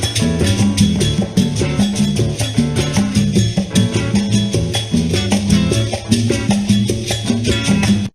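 Loud, dense blues shuffle layered over rolling Afro-Cuban 6/8 hand percussion, bass and chords pulsing steadily without any talking.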